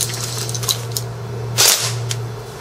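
Airsoft rifle with a PTS PMAG, its bolt catch releasing and the fake bolt firing, a few small clicks followed by one sharp snapping burst close up.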